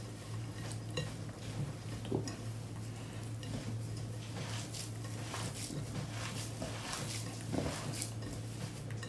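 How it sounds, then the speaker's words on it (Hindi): A spoon stirs spices into a mashed potato mixture for cheesy potato balls in a bowl, with repeated scraping and clinking strokes over a low steady hum. "सब मसाले मैंने डाल दिए अब इसको अच्छी तरह से कर लो मिक्स"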